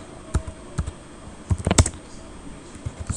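Keys on a computer keyboard clack in short, irregular bursts nearby, with a quick flurry in the middle and no talk.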